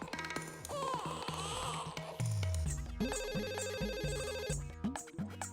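An electronic telephone ringtone from an intercom call in an electronics shop plays a repeating melodic pattern, fairly clear and continuous, with no speech over it.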